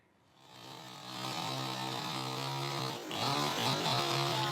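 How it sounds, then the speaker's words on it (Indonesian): A gasoline chainsaw revs up and cuts steadily through household furniture, its loud buzzing drone rising after a short start, dipping briefly, then climbing again, with no voices. "seluruh perabotan rumah tangga juga ikut dibelah dengan menggunakan gergaji mesin"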